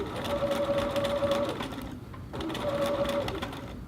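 A sewing machine stitches a facing to the collar of a little girl's dress, two close, whirring bursts of stitching separated by a short pause.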